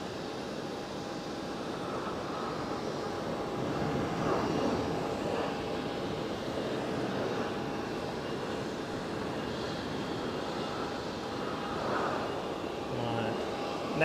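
A fixed-wing airliner passing close at Geneva Airport gives a steady, broad jet roar that swells gently and holds throughout, with faint chatter in the background.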